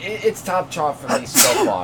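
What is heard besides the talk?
sneeze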